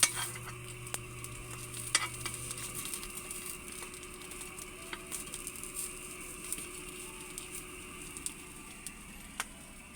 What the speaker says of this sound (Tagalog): Dahil wala tayong ihawan dito tayo sa kawali nag-ihaw.